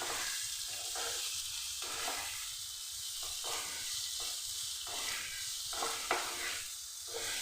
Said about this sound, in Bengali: মশলাগুলো দিয়ে খুব ভালো করে আমি 2 মিনিট কষে নিচ্ছি।